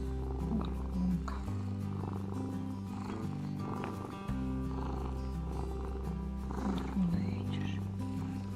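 A house cat purrs close up, a low continuous rumbling purr with a couple of brief pauses for breath, steady and fairly loud throughout.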